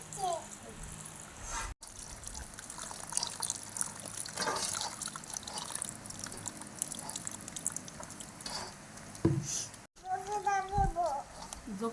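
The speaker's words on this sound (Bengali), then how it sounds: "এখন জল দিয়ে গুলে নেবো" Water is poured into ground rice batter and mixed, making soft trickling and sloshing sounds with intermittent stirring clatter, faint and close, while a voice and other voices talk in the background.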